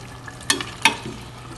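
Mutton pieces sautéing in a pan with turmeric and salt, giving a soft sizzle with two brief stirring scrapes, fairly faint and close.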